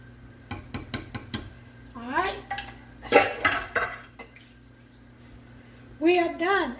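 A spoon stirs Dr Pepper baked beans in a pot, producing a run of quick metallic clinks and scrapes, then a louder stretch of clattering, with a voice talking between and after the stirring.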